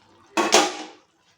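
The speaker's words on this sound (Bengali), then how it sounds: "দেখুন আমি এবার ঢাকাটা খুলছি।" A metal lid lifted off a cooking pot of simmering butter garlic mushrooms and capsicum, one brief clattering scrape followed by a short hiss that fades within a second, close and alone.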